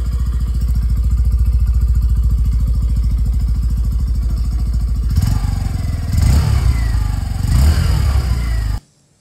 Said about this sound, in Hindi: और अब आप सुन पा रहे हैं पैशन एक्सट्रैक्ट का एग्जॉस्ट नोट।